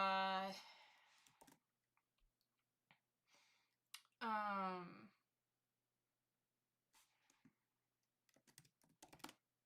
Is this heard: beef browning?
no